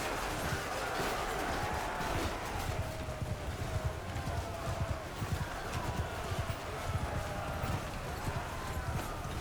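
Massed cavalry hooves pound in a steady galloping clatter across a battlefield in Mount & Blade II: Bannerlord, a dense continuous rumble with a voice faintly underneath.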